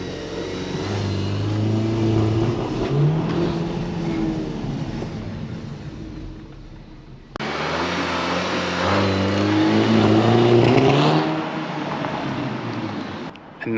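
Audi TT with DSG S-tronic gearbox doing a launch control start, the engine roaring loud and close as revs climb, a brief drop at a gear change, then climbing hard again with no talking.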